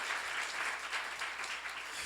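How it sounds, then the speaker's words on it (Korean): A church congregation claps together during a sermon at a seminar, a brief, steady burst of many hands at moderate distance, heard on its own without speech. "박수하세요."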